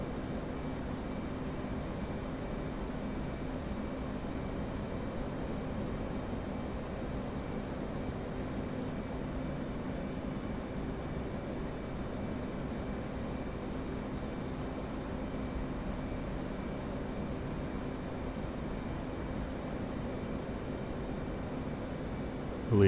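An F/A-18 Hornet jet engine in the DCS World video game drones as a steady, unbroken broadband roar at moderate level for the whole stretch, heard alone without speech.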